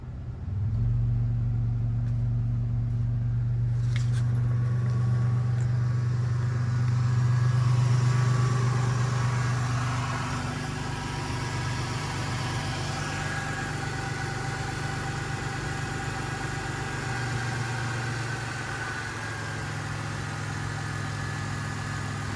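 A warmed-up car engine idles steadily up close, a low continuous rumble with a slight swell in the middle before settling back to an even hum.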